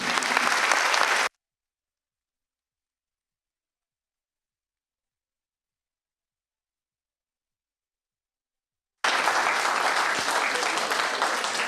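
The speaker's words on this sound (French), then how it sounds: "Je souhaiterais que nous leur marquions nos remerciements par quelques applaudissements" Audience applause for students receiving their diplomas at the IUT Troyes graduation ceremony, a dense wash of clapping that stops abruptly, leaves a long silent gap, then resumes just as full.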